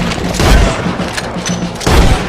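Cannon fire in the video game Red Dead Redemption 2, loud booming blasts at the start and near the end with a rumbling barrage of gunfire between.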